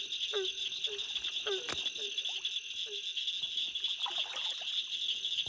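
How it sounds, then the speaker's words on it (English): A barking tree frog calls near water: short, hollow, repeated barks at a steady rhythm, fairly close, over a constant high drone of insects. "So what I think right there is a barking tree frog"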